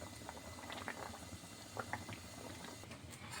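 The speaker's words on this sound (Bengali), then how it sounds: "এই যে একটু আস্তে করে একটু ফুটিয়ে নিচ্ছি" A vegetable curry bubbles gently in a pot, a soft continuous simmer with faint pops and small burbles, quiet and close.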